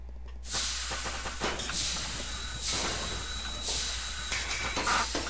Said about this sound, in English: My Stanley steam lift. It makes traversing these cumbersome stairs a breeze.